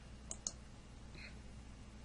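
Computer mouse clicks while working in WordPress, two quick, faint clicks in succession and a softer tick a moment later, over a steady low hum.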